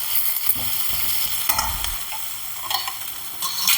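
Spices and a pinch of asafoetida being stirred into sweet potato masala in a hot pan, a close sizzle with scraping spoon strokes and short clinks, no voices.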